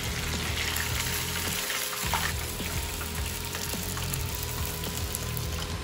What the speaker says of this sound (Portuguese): vamos fritar essa parada aqui e degustar